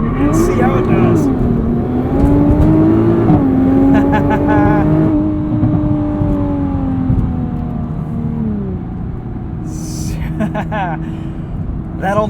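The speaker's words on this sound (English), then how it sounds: "Let's sneak a launch control in here and see how it does." A 2021 Nissan GT-R Premium does a launch control start, its engine droning loud and steady as it pulls hard through the gears, with someone talking over the acceleration.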